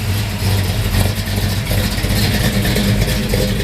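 A 1972 Chevrolet K10 4x4 truck engine runs with a steady, deep exhaust rumble, holding a continuous low throb close by with slight swells in revs and no talking.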